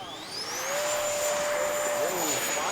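A Freewing Zeus EDF sport jet model takes off, its electric ducted fan giving a loud, steady high-pitched whine that rises in pitch and holds, with faint voices in the background.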